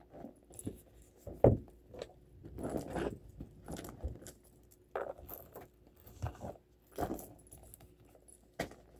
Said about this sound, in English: Keys on the key keeper and put more focus